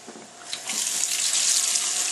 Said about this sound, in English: Add water to that.